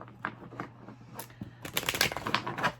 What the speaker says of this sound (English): I'm going to shuffle these bad boys back in.